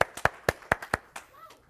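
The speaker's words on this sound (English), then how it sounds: "So let's give a round of applause to them." A small audience at a technology presentation gives a brief round of applause: about half a dozen sharp, separate handclaps, close and crisp, thinning out within two seconds.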